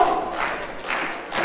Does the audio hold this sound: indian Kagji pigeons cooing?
no